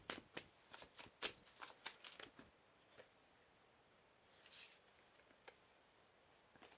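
Tarot cards are shuffled in a quick run of close, crisp riffles over the first few seconds, followed by softer handling and a brief slide as a card is drawn, all quiet and nearby.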